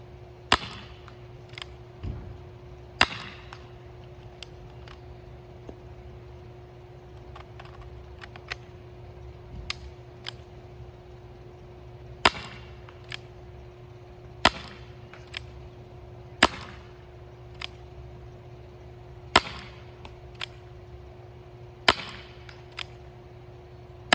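A Nerf Rekt pistol fires foam rounds at a target 50 feet away, giving a long series of sharp, separate snapping shots at irregular intervals over a steady background hum.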